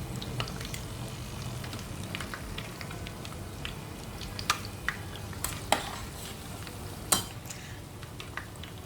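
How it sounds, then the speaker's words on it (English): Steady frying crackle as Korean-style chicken double fries in oil, with occasional sharper pops and clinks, close by, no voices. "We are going to double fry this chicken."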